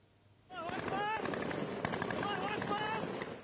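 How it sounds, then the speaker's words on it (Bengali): Rapid, dense bursts of gunfire from fighting in Sweida, Syria, crack out almost continuously and loudly for about three seconds after a brief quieter start, with raised voices shouting underneath. "বৃষ্টির মতো ছোড়া হচ্ছে একের পর এক গুলি"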